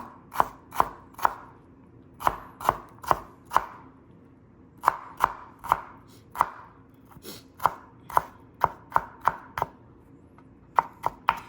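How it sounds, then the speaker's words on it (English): A knife minces a jalapeño finely on a cutting board for mango and corn salsa, giving crisp, close taps in quick uneven bursts with short pauses between runs. "I'm just mincing up the jalapeno here"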